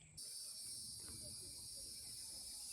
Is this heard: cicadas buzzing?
yes